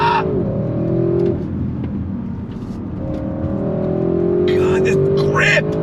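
A 2022 Audi RS6 Avant accelerates hard on full throttle, its engine note climbing in pitch toward redline, dropping briefly at a shift, then rising again loud and close, with excited voices over it.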